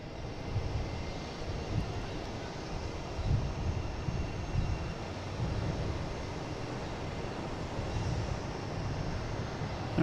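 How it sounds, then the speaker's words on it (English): An American Airlines Embraer E175 jet from Syracuse arrives at Boston Logan airport, heard as a steady, broad engine roar that holds at a fairly even level throughout with no voices. "have American Airlines coming in next. From Syracuse, the E175, flight 4780."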